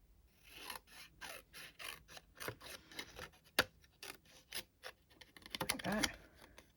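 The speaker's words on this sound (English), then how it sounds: "And some snips. So I'm just going to cut that." Hand snips cutting through paper in a series of crisp, rhythmic snips and rasps, close and moderately loud, with a denser burst of cuts near the end.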